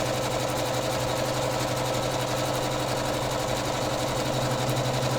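An embroidery machine stitching quilt applique runs in a steady, rapid mechanical chatter with a constant hum, close and unbroken throughout, with no voices over it.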